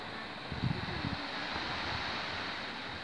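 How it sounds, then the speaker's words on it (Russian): Waves wash softly against the foot of a high, steep seashore at Anapa on the Black Sea in early March, a steady diffuse rush blended with wind noise on the microphone, with no voices. "Вот если прислушаться, слышно шелест волн."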